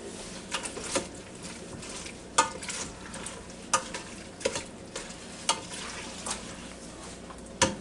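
Food sizzles steadily on high sear/sauté setting in an electric multi-cooker for mac and cheese, with sharp stirring clacks and scrapes of a utensil against the pot at irregular intervals, close and moderately loud, no talking.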